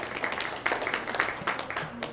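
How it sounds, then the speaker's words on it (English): A conference audience claps in a brief, scattered round of applause, with individual claps distinct against a soft room murmur, moderately close. "You have to clap though."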